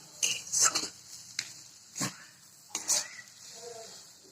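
A utensil scrapes and knocks against a pan while mashed potatoes are mixed, several short scraping strokes with pauses between them, fairly faint.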